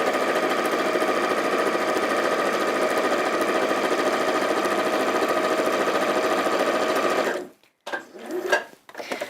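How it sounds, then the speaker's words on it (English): Chain stitching fabric strips, a sewing machine hums along at a fast steady pace, loud and close, then halts and is followed by a few brief handling rustles and thumps. "just chain stitching, keeping those together and reducing the waste of our thread"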